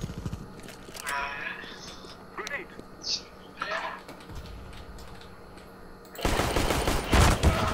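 In Counter-Strike: Global Offensive, scattered faint clicks and shots lead into a loud, dense burst of machine-gun fire near the end, with voices heard along the way.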